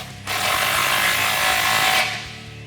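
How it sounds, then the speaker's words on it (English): Ratchet tightening an exhaust clamp during a Flowmaster American Thunder cat-back install on a 2009-2014 Dodge Challenger 5.7L, one sustained close clicking-rasp of about two seconds with no speech. "And tighten down your clamp."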